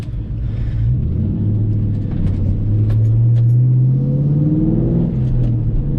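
A Ford Mustang's engine rumbles deep and loud from inside the car while driving, with the pitch climbing steadily as it accelerates through gears, a continuous close throaty drone with no speech.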